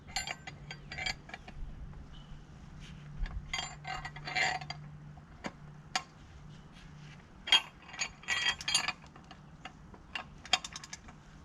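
A ratchet tightens the bolts on tractor wheel weights, producing bursts of rapid metallic clicking with pauses between strokes, fairly close and clear against a quiet background.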